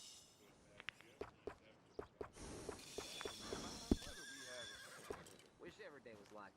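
A horse in Red Dead Redemption 2 whinnies and snorts over repeated clip-clop hoof steps, close and fairly loud, with in-game voices talking alongside.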